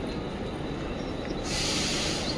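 A Mumbai local train pulls out of the station, a steady loud rolling rumble with a hiss that swells partway through.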